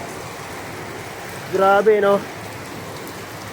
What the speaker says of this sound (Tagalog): Kalalaki ng mga bagsak ng yelo.